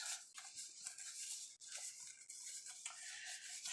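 Toilet bomb mixture of dry ingredients being mixed by gloved hands, a steady close scratchy rubbing and stirring that runs continuously with brief pauses.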